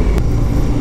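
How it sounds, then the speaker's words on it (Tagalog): A motor tricycle passes on a road nearby, giving a brief, loud, steady engine drone with no talking. "Ayun yung tricycle"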